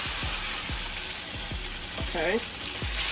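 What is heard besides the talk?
pork chops frying on the stove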